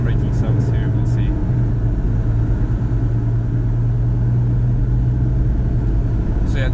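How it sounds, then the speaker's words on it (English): A Scania G440 truck pulling a trailer rumbles steadily under engine braking, a loud, deep, continuous drone heard from inside the cab, with a few faint clicks over the top. "Now you will hear some nice engine braking sounds here."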